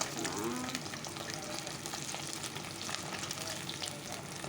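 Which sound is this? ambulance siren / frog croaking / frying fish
frying fish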